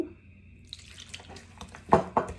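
Water trickles and splashes into a cooking pot while making karain with chickpeas, a thin stream followed by two louder sloshing bursts near the end, close and without talk.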